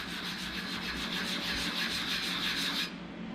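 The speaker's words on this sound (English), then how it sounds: "I'm going to go ahead and smooth this out" A wax piece is rubbed back and forth on sandpaper, giving a steady, close, gritty scratching of even strokes that stops abruptly just before the end.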